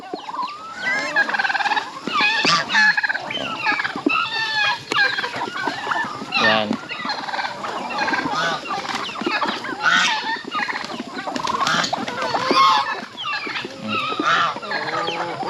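A crowd of farm turkeys gobbling continuously and loudly, their rapid warbling calls overlapping with scattered clucks throughout.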